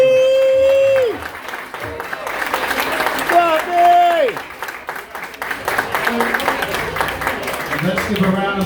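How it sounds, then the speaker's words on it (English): An audience at a jazz concert applauds its neighbors, a steady wash of many hands clapping across the room, while someone speaks over it and brief sung or whistled tones rise at the start. "How about a round of applause for all your neighbors?"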